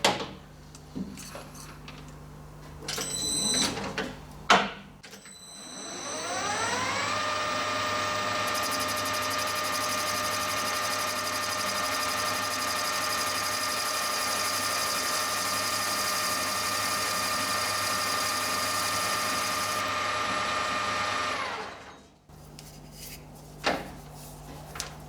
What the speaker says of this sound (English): We'll just machine this out of profile here